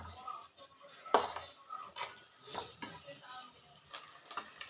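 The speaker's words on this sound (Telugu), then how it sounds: "తిరుగు ఒక 2 మినిట్స్ బాగా ఫ్రై చేసుకోవాలండి ఇందులోనే." Okra frying in a pan while being stirred makes quiet scraping and clinking of a utensil against the pan, with a few sharper knocks spaced irregularly over a soft background.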